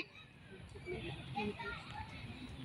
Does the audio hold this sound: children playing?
yes